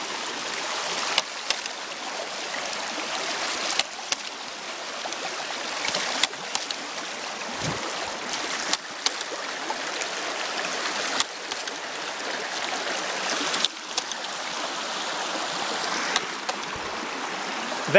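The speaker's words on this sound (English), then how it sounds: "That is a hydraulic ram pump. It is pushing somewhere around a gallon every, 2 minutes or so, up 30 feet of incline." A hydraulic ram pump works beside a stream, its valve giving a sharp clack roughly every two and a half seconds over the steady rush of running water, with no talking.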